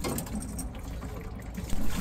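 Water draining out of the radiator of a 1985 Ford F250 bullnose pickup, a steady gushing, splashing rush of liquid heard close up, continuous for the whole stretch with a slight surge at the end.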